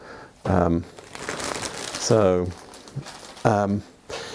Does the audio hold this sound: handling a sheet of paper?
yes